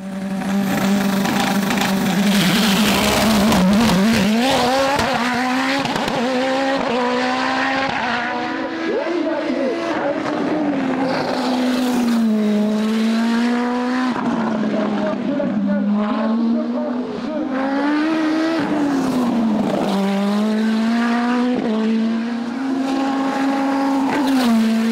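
Nova Proto NP01 Turbo race car climbing a hillclimb course, its turbo engine revving loud and close with rising and falling gear changes and a brief squeal of tyres, filling the whole stretch.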